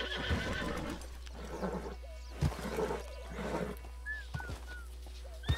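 A horse in Red Dead Redemption 2 Online whinnies and snorts over a steady low hum, with thumping hoof sounds and occasional short squeals.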